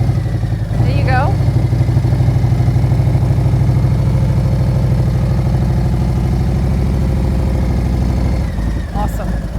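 A motorcycle rolls slowly on steady throttle while the rider works only the clutch during a low-speed riding drill, a close, continuous engine drone with an even pulsing rhythm throughout, and a voice briefly heard.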